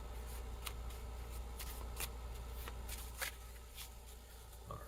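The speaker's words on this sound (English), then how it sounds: "we'll shuffle again and select fighter number 2" A deck of cards for a tabletop boxing game is shuffled. Repeated crisp riffles and flicks sound close, in quick irregular bursts over a quiet background hum, with no talking.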